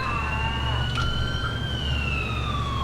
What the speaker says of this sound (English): Oh, and there's an ambulance.